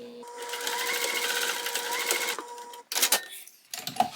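A sewing machine runs steadily for over two seconds, basting a seam on a parachute-style knapsack, then stops and gives a few short bursts of stitching near and loud, with no talk.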